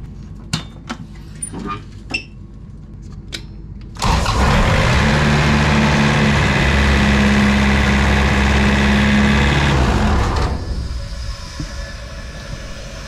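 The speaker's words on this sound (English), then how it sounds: "Got to go in here and crank this motor up." The hydraulic motor on a crop sprayer starts with an abrupt, loud mechanical roar that holds a steady, droning tone for about six seconds before cutting off, following faint clicks and handling noises at close range.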